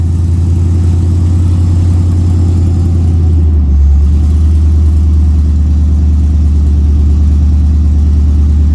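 An LS-swapped OBS Ford truck engine idles loudly and steadily after a cold start, a deep constant rumble that briefly shifts pitch a few seconds in before settling into an even drone.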